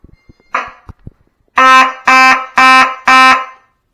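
A fire alarm sounds during a walk test of zone 4 on the panel, using a detector with a base: a few faint clicks and a short tone, then four loud, evenly spaced electronic horn blasts close by.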